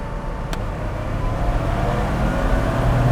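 A 2021 or 1986 Porsche 911 Targa accelerating hard in second gear in wet mode, a loud, close, steady engine roar that builds slightly over a few seconds.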